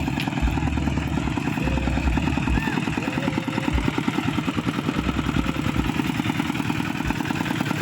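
A walk-behind farm tractor engine runs with a rough, clattering idle-like chug close by, mixed with shouting voices and outdoor bustle throughout.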